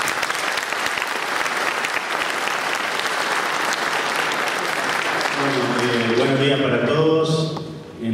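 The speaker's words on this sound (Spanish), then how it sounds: "Fuerte el aplauso." A full audience claps steadily at the opening ceremony of a 2015 conference, sustained for about five seconds before a voice begins speaking over the fading applause.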